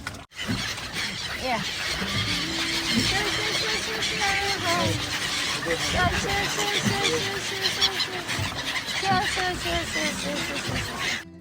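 A flock of Siberian migratory birds calls at a river ghat, with many overlapping honking and squealing cries sustained loudly throughout, mixed with people talking nearby.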